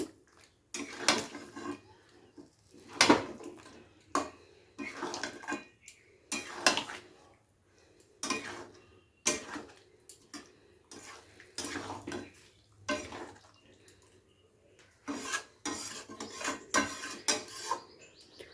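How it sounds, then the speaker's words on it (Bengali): Fish curry with a little water being stirred in a pan, the Katla fish recipe: repeated scraping and clinking of a spoon against the pan in irregular bursts, close and fairly loud, with no talking. "তো জলটা দিয়ে খুব ভালো করে আবার একবার নেড়ে চেড়ে নিচ্ছি।"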